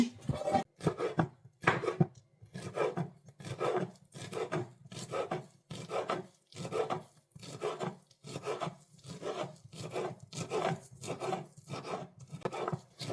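Pumpkin leaves are sliced into small pieces with a knife, producing close, evenly spaced rasping cuts at roughly two strokes per second with brief pauses, and no voices.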